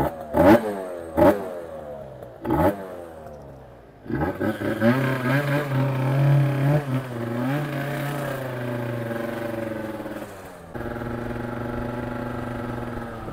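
A Piaggio Zip scooter fitted with a Stage6 Sport Pro kit, just run in, gives three short sharp throttle blips. Then a longer rev climbs, wavers and falls, and the engine settles into a steady idle.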